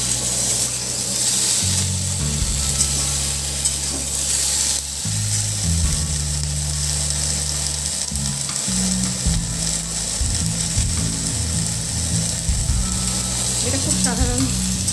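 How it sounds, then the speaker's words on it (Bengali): Spinach lightly frying in a pan for Bengali palong shak ghonto gives a steady sizzle that runs throughout, over a low droning hum. "হালকা ভাজা ভাজা করে নিতে হবে।"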